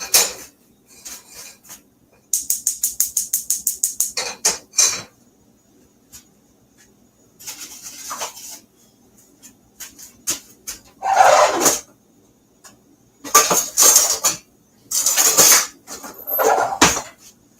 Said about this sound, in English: So I'm just gonna make a quick roux over here with the butter, and the lard.